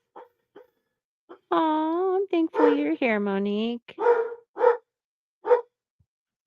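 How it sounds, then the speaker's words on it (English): A small dog barks and yips in several short, sharp bursts close by, mixed in with someone talking indoors. "Sorry about the dog barking."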